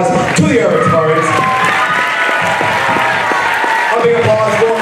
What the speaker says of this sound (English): So can I get all of you to give a great big applause to the Arab Department?